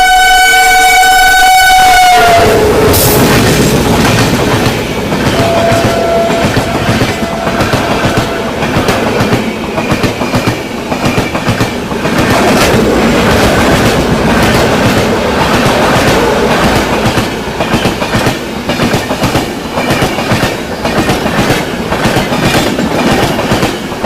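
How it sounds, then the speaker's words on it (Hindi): The Bihar Sampark Kranti Express passes close by, overtaking the Subedarganj Dehradun Express in heavy rain. A loud horn blast opens, then a continuous roar and rhythmic clickety-clack of wheels carries on for over twenty seconds. "चलिए आ रही है बिहार संपर्क क्रांति एक्सप्रेस ओवरटेक करने सूबेदारगंज देहरादून एक्सप्रेस को"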